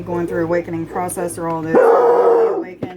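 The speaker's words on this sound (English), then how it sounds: "I apologize for my dog barking." A pet dog lets out a loud, harsh bark or two close by, cutting in on a person's steady speech as they keep talking.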